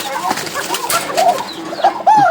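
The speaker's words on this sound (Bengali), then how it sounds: "এটা ডিমওয়ালা কবুতরের ডাক হ্যাঁ" A pigeon carrying eggs coos in soft, low, throaty calls close by, a few short phrases rising and falling, with other sounds of the bird loft around it.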